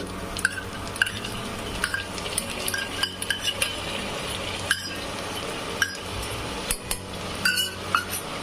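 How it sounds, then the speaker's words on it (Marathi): Soaked chana dal being sautéed with reddened onions in oil, a steady close sizzle with repeated spoon scrapes and clinks against the pan throughout. "डाळ पण छान परतून घेऊ आपण"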